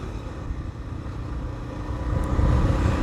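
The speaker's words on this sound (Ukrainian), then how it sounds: "Резина виє." Enduro motorcycle tyres whine over a steady engine drone while riding on the road. The broad, continuous noise swells slightly louder toward the end, with no talking.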